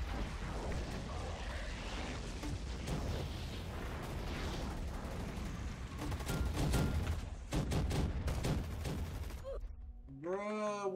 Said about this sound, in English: Why are they throwing grenades outside?